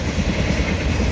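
A Norfolk Southern autorack freight train rolls past close by with a steady, dense rumble and rattle of railcars, no voices.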